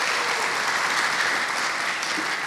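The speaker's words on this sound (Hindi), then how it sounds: "तालियां बजाएं खान साहब के लिए" Steady, dense audience applause for Khan Sahab at a Mehmaan Nawaaz show gathering, continuous and fairly close for the whole stretch with no pauses.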